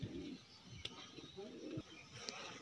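A pet bird coos softly and repeatedly indoors, faint and close, with a few sharper chirps breaking through.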